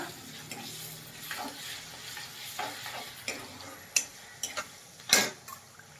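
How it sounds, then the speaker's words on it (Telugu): Ginger and garlic frying in a pan, a low continuous sizzle broken by several sharp spatula scrapes and taps against the pan, growing louder toward the end. "అల్లం వెల్లిపాయ మంచి వేగిన తర్వాత"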